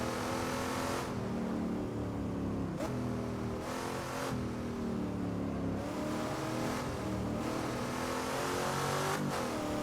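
Race cars at Silverstone, including a Ford Mustang and a Mini, scream past under throttle, with engines rising and falling through gear changes and sharp cuts as the cars brake and accelerate through the corners.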